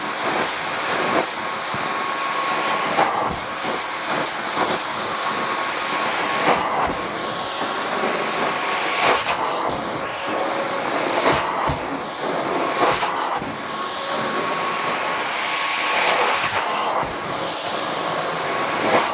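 A truck-mounted Butler carpet cleaning extraction unit powered by a V8 motor runs in freezing weather, a loud continuous hiss and roar with recurring surges and bursts of suction.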